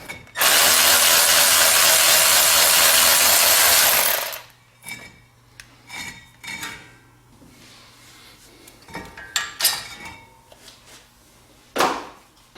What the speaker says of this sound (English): Now you can take an 18 millimeter socket and remove the two bracket bolts.